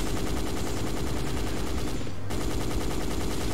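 Rapid gunfire from a player pre-firing at enemies in the PlayStation game Dino Crisis 2, dense continuous bursts filling the whole stretch with only a brief break near the end.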